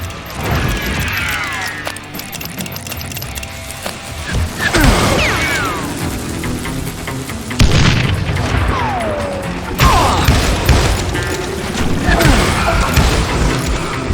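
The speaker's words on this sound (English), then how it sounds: "I saw Henry Plummer throw dynamite at me." Dynamite blasts in the Call of Juarez: Gunslinger western shooter game, several loud booming crashes with debris and mechanical clatter, resounding close over a dense game soundscape while a voice speaks.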